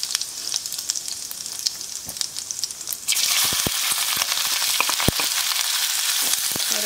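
Onion dropped into hot oil with crackling cumin seeds for mushroom fried rice: quiet popping and spattering at first, then a sudden louder, sustained sizzle with sharp crackles and stirring clicks, no voices.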